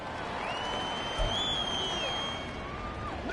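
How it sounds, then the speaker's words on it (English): Simulated stadium crowd noise from an EA Sports football video game, a steady broad roar of cheering that swells slightly through the middle and holds without any talk over it. "A big play here as the crowd noise rises"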